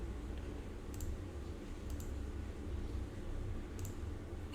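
A computer mouse clicks faintly three times, spaced about a second apart, during work in PowerMill CAD software, over a low steady room hum with no speech.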